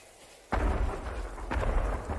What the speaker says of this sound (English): All fireworks! On all sides!